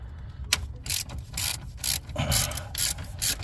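Ratchet wrench with an extension working the alternator bolts on a Chevy truck: quick bursts of close, crisp clicking, about eight short strokes in an uneven rhythm, no talking.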